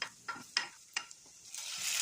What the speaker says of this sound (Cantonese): 油熱20g 蒜蓉，1湯匙蝦皮，煎香20秒